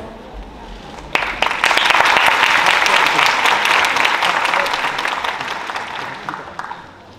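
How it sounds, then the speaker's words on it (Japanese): At a dance festival in Inuyama, an audience breaks into loud, dense applause that starts abruptly, holds steady, then gradually thins toward the end. "声が出せないので、手拍子の方よろしくお願いいたします"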